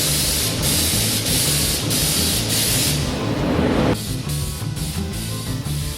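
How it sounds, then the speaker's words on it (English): Spray gun applying Raptor bed liner coating to a 4WD body, a loud continuous pulsing hiss of compressed air and atomised spray that runs steadily, then drops to a quieter hiss with lighter bursts. "Now it's just a matter of testing the setup and then spraying the body."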